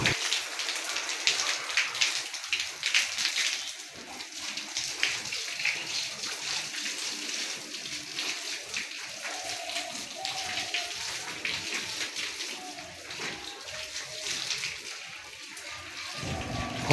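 Water splashes and pours across a room floor, wetting it down during home masonry work; a steady wash of splattering and dripping runs close and continuous throughout, with no voices.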